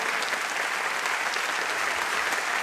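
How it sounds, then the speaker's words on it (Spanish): Applause from a live audience in Jalapa greets a joropo music group, a dense, steady wash of clapping from many hands that holds at even loudness throughout, with no voices over it. "Un aplauso para ellos"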